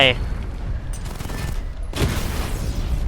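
Level 2 missiles fire a four-shot volley in Batman: Arkham Knight, loud rapid bursts and booming blasts with mechanical whirs, mixed with a talking voice.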